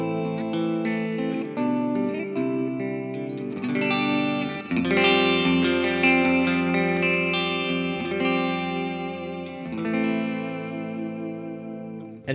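Electric guitar played through an iOS audio interface with a hall reverb effect switched on, sustained chords and notes ringing out with a wide, washy tail, loud and alone.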